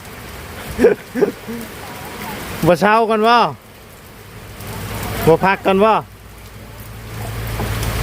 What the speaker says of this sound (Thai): อ่าฝนตกอีกแล้ว